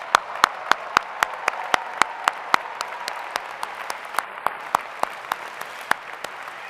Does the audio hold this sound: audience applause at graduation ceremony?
yes